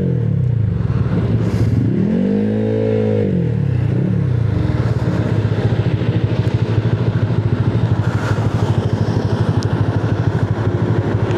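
A Honda Click 175cc scooter with 14T touring gearing on a speed test run, its engine droning loud and close with a brief revving swell early on, wind and road noise steady throughout.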